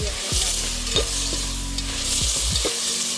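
Cowpeas fry in a pan for a Chettinad kalani mandi, a steady sizzle broken by several sharp scraping stirs of a utensil against the metal, close and without talk.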